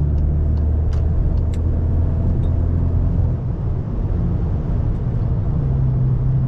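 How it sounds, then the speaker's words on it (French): A Toyota Yaris GR is driven at full throttle on the Spa circuit, a loud, sustained engine drone heard from inside with a steady low rumble and faint ticks above it. "Gaz à fond avec une petite Yari GR, un petit truc sympathique."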